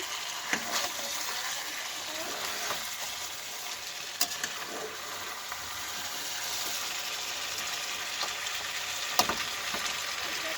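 Chicken frying in a home kitchen pan at midday, giving a steady soft sizzle and crackle with occasional sharper pops, fairly quiet and continuous with no voices.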